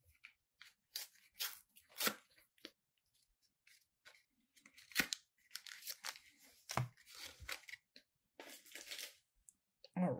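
Foil wrapping on a Pokemon Obsidian Flames booster pack is ripped open in short, crinkly tearing bursts, close and quiet, with brief pauses between pulls.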